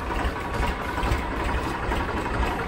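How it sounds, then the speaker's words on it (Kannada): A tractor engine, started with the hand brake on to run a water pump, idles in a steady, loud, low rumble with continuous vibration throughout and no voices. "ಟ್ರ್ಯಾಕ್ಟರ್ ಸ್ಟಾರ್ಟ್ ಮಾಡ್ಕೋತೀನಿ"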